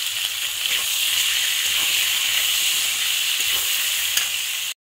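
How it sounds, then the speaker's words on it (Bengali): Cauliflower florets, lightly salted, fry in a pan with a steady, bright sizzle that holds evenly for about five seconds before cutting off abruptly, with no voices. "কপি ভাজা হচ্ছে"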